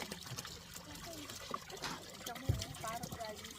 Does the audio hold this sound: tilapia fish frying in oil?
no